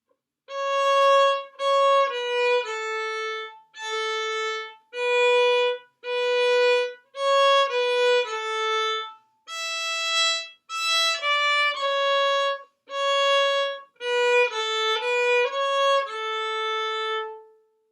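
A solo violin plays a clear, bowed melody of separate sustained notes with brief gaps between phrases, close and alone.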